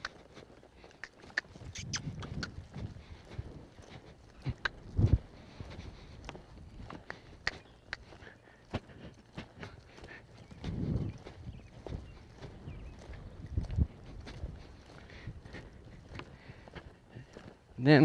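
A ridden horse walks back toward other horses, its hooves clip-clopping in soft, irregular taps at close range, with a few louder thumps and a quiet outdoor background.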